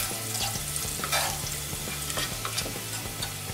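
Garlic and green chillies fry in a pan for a yellow khichadi, giving a steady close sizzle with a low hum beneath and scattered light clinks of a spoon stirring, no talking.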